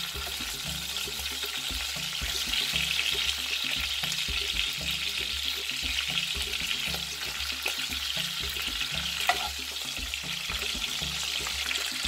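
Chicken pieces frying in a pan for stew, a steady dense sizzle with crackling spatter that holds evenly throughout, close and continuous with no voices.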